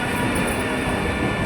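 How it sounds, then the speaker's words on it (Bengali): A train rolling past on a railway line gives a loud, dense, continuous rumble with a high metallic ring over it, close by and unbroken for the whole moment. "এই যে ট্রেন যাচ্ছে"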